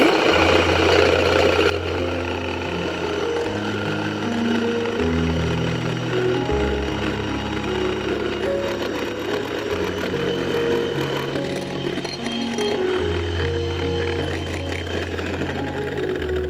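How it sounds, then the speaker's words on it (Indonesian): An electric mixer whips two egg whites until stiff for an avocado Oreo chocolate pudding, a steady loud motor whir with lower humming tones that shift as the beaters work, running without pause. "Kemudian ini akan aku mixer sampai mengembang putih dan kaku."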